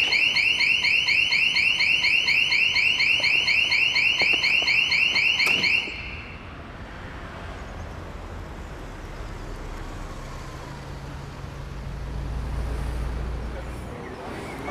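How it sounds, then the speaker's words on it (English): A security alarm in a video game sounds loud and continuous in rapid repeating electronic pulses for about six seconds, then stops abruptly, leaving quieter game ambience with a low rumble. "Maybe it's time for his alarm to go haywire."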